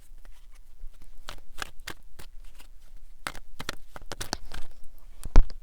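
Tarot cards are shuffled by hand in loose, uneven bursts of crisp riffling and soft taps, close up, with no talk and a sharper knock near the end.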